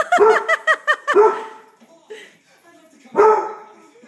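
A small dog lets out a rapid series of high yips and barks up close, then pauses before one more yelp.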